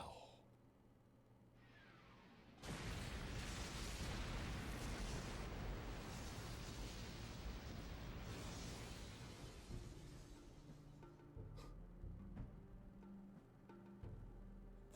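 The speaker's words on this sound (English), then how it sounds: "There's been an explosion, Hard Sister. A large one." A large explosion in the video game Dragonfable bursts in suddenly as a loud, broad roar that sustains for several seconds before thinning into a fading rumble, with quieter game sounds before and after.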